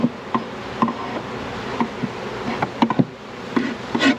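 Package honey bees buzz steadily during installation into a horizontal hive, a dense close hum with repeated soft knocks and taps from handling the box, and no talking.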